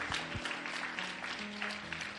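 Congregation applauding at a French-language church service, steady clapping across the whole stretch with sustained instrumental tones underneath and no talk.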